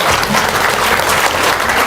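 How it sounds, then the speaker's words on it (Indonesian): Dense applause from an indoor audience fills the whole moment, loud and steady with many hands clapping together and no pauses. "Tepuk tangan dong."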